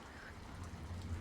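Stormy rain at night, a soft, steady wash of falling rain, faint and continuous, with no voices.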